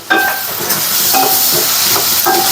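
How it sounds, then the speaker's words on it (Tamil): Masala-coated fish fries in a pan, a loud, continuous close sizzle with a few louder bursts as pieces are shifted, and no voices over it. "நான் வந்து மீன் வறுக்க போகிறேன்"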